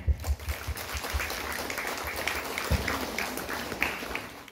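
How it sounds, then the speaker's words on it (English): Applause rises from the crowd at an elementary school graduation ceremony, a faint, distant patter of clapping with a few thumps and scattered louder claps. "Once again, a big round of applause to Attorney Nani."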